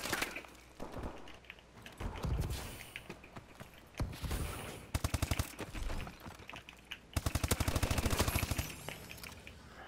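Rapid bursts of Speakeasy gunfire in a video game crackle in short volleys and longer automatic strings, fairly quiet and without talk.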